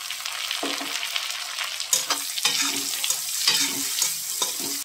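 Chopped tomatoes sizzle in a hot pan over browned onions for an egg yolk curry, with a steady frying hiss broken by several scraping stirs of a spoon.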